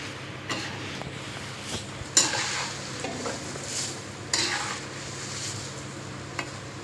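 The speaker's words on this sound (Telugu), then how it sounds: "అది కూడా నేను ఫ్రై చేసుకుంటున్నానండి" Sweet corn fries in hot oil for a spicy corn snack mix, giving a steady soft sizzle broken by several sharp stirring scrapes and clinks, close up with no talking.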